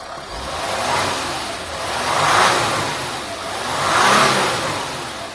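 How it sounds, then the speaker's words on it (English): A 2012 Nissan Navara D40 diesel engine, with EGR fault code P0488, revs up and back down twice, the roar swelling and fading each time over a steady running rumble. "I'll just give it a quick rev up and down"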